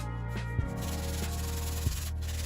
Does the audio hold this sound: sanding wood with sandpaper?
yes